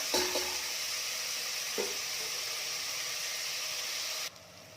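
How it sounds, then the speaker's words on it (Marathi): Onions with a little salt added fry in a pan in a steady, close hiss that holds evenly, with a couple of faint stirring clinks, then drops away abruptly near the end. "कांदा रंग बदलेपर्यंत छान भाजून घेऊया"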